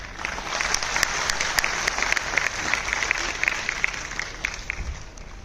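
An audience claps steadily for several seconds after a speech at a live event for Narendra Modi's birthday, a dense even wash of applause from a large crowd heard at moderate distance.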